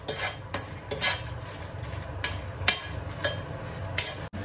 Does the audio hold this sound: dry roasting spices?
yes